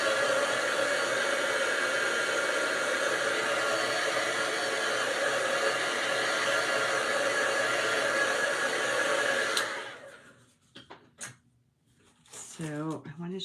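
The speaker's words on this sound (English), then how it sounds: "So I'm going to dry this a little bit." A hair dryer blows steadily on a craft project, a loud, continuous close-up whoosh for about ten seconds before switching off, after which a person starts talking.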